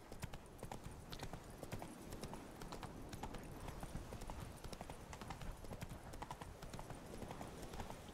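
Hoofbeats of the horse Roach galloping in The Witcher 3 video game, a steady rapid clip-clop rhythm that runs close and continuous throughout, with no talking.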